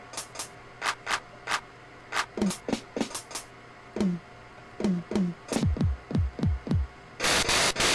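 A Synthino XM groovebox plays its drum samples one by one: crisp clicks and hats, pitched electronic toms, then deep dropping kick thuds, ending in a burst of noise. The hits are close and distinct, with no voices.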